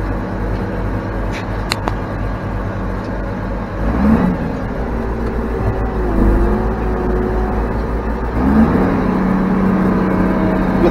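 A farm tractor's engine rumbles steadily at idle and pulls ahead, with two swells in power, heard close and continuous, low and droning, with no talking.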